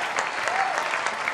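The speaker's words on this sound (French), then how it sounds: "Applaudissez, s'il vous plaît." Audience applause at a live French television show, steady clapping from a crowd throughout with a faint voice mixed in.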